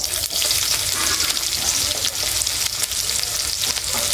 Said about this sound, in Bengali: একটু তেল দিয়ে দিই ফোড়ন করে নেব জিরে তেজপাতা